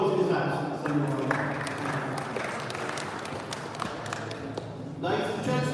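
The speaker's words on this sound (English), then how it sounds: "we give him a round of applause in his absence anyway" An audience at a live business awards ceremony gives a steady round of moderate applause. It is heard from a distance and fades out just before a presenter's voice returns.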